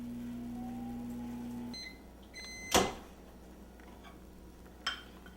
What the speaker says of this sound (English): I'm going to put it in the microwave for 10 to 15 seconds at a time